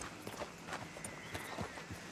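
Horse hooves clip-clop in Red Dead Redemption 2, a brisk run of soft, evenly spaced thuds at close range with no talking over them.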